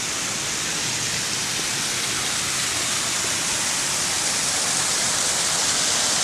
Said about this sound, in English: a little bit of water coming through, not too much